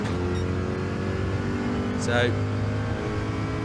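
A race car's engine in the driving game Gran Turismo 7 drones with a steady harmonic whine, rising briefly near the middle, while someone talks over it.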